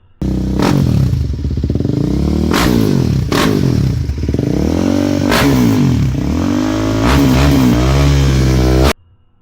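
Single-cylinder thumper motorcycle engine, a Ducati dirt bike, loud and close, revving repeatedly with rising and falling pitch swells and a short idle between, then cutting off abruptly.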